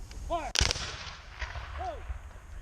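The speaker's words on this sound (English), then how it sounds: "they should be able to fire 4 rounds in the 1 minute" A historic cannon fired by Civil War reenactors of the 99th New York Infantry at Fort Monroe gives a single sharp outdoor blast with fading rumble. Shouted commands can be heard briefly before and after it.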